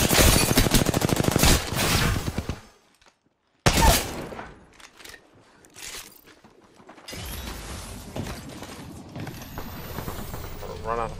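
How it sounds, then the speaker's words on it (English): A minigun in the Apex Legends video game firing in rapid dense bursts, loud and close, broken by a brief silent gap, then continuing amid other gunfire and game effects. "that's a whole ass minigun!"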